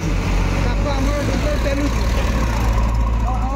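A loud, steady tractor engine rumble runs throughout, close by and continuous, with faint voices mixed in.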